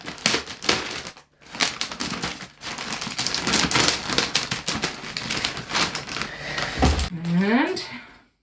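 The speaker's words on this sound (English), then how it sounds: "I'm going to cut the top of the bag" Continuous crinkling and crackling of a plastic puzzle bag with scissors snipping cuts, close and fairly loud, ending with a brief rising vocal sound.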